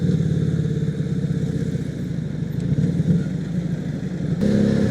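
An FKM Victurino 250i motorcycle with its stock exhaust is ridden on a bridge, its engine throbbing in a loud, steady low thrum that wavers slightly and then swells as the revs climb near the end.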